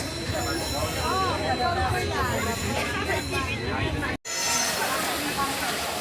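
Train pulling into a station, wheels squealing in wavering high tones over a steady rolling rumble and platform babble, a brief cut near the end, voices talking.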